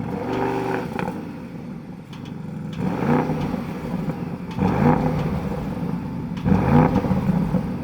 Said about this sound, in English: this car sounds really good in dynamic mode